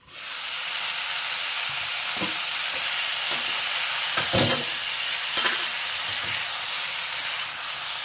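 Vegetables for macher shukto fry in a pan with a steady close sizzling hiss, broken by occasional scraping stirs of the spatula.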